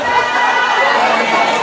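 Dense, steady clapping from a gathered crowd at a Javanese siraman seventh-month pregnancy ceremony, close and fairly loud, with a faint murmur of voices mixed in.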